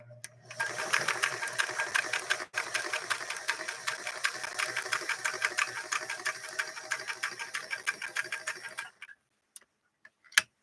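A Singer 328K sewing machine zigzags on satin with a stiffener, a fast mechanical clatter of rapid ticking stitches running steadily for about eight seconds, then stopping with a few faint clicks.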